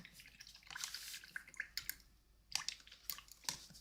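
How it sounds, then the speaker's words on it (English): A paintbrush is swished in a water jar, making soft, quiet sloshes and small dripping splashes in short uneven bursts close by. "let me rinse this brush"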